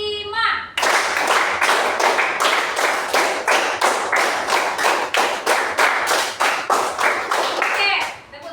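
Schoolchildren in a classroom clap their hands in a counted rhythm, sharp, loud group claps in a steady sequence of evenly spaced bursts, closely mic'd, with a brief voice at the start.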